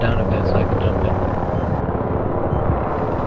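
A helicopter in a video game flies with a steady, loud rotor and engine roar that fills the whole stretch, while players talk over it.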